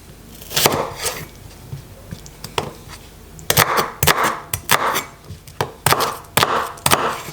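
A knife chops a red onion on a board. Sharp, loud thwacks come sparsely at first, then in quicker irregular bursts. The sound is close, with no talking.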